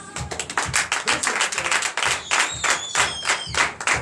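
A church congregation at a Sunday worship service in Comè, Benin, claps in acclamation to the Lord, loud and close, in a steady rhythmic beat of hand claps with brief pauses between groups.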